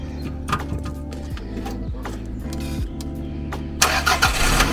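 A JDM import project car, said to have a coolant leak, cranks over and catches, a mid-pitched engine churning through several starter attempts before settling, with a burst of hiss near the end.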